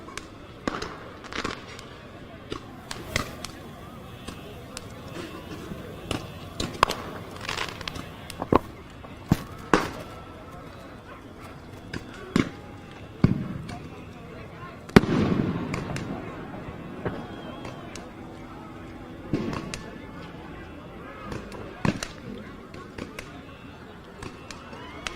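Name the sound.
fireworks exploding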